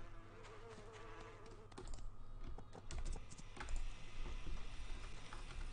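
A bee buzzing in the video game My Time at Portia, a thin wavering drone near the listener at first, then fading among soft clicky game sounds and light tapping.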